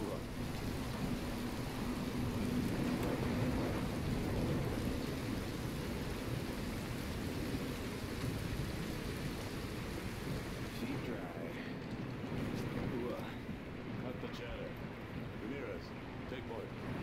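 A thunderstorm with rain and lightning in the shooter video game Call of Duty: Modern Warfare 2 gives a steady, moderately quiet wash of rain and low rumbling. Toward the end, voices can be heard talking over it.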